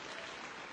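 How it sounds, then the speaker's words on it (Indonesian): Seminar audience at a cervical cancer talk breaking into steady, dense applause, a continuous wash of clapping with no pauses over a brief stretch. "Boleh tepuk tangan dulu dong biar rileks ya."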